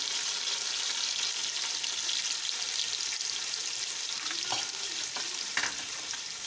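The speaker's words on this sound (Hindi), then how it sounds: "लाइट से हमारे प्याज ब्राउन होने लग गए हैं, तो इसमें हम धनिया ऐड करेंगे और इसमें हम अपनी ग्रीन चिली ऐड करेंगे" Browning onions fry with coriander and green chili in a pan for chicken tikka biryani, a steady close crackling sizzle throughout with a few faint stirring scrapes near the end and no talking.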